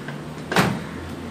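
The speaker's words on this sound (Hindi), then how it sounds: "और माइक्रोवेव का डोर क्लोज कर दूँगी" A microwave oven door swung shut, one brief close thud and latch click in an otherwise quiet kitchen.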